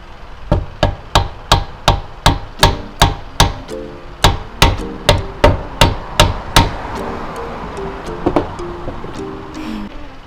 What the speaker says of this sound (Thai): ตอกลงไปนะคะ เพื่อว่าให้มันแน่นกว่าเดิมหน่อยนะคะ